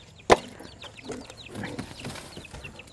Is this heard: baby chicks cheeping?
yes